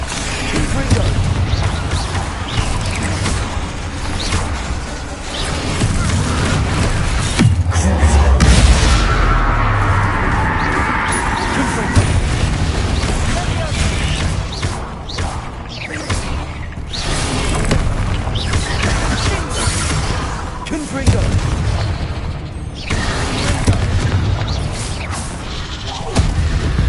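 Blasting spells in the Hogwarts Legacy video game explode as loud, booming blasts in a dense, continuous barrage, mixed with crashes and battle noise, with a voice speaking at intervals.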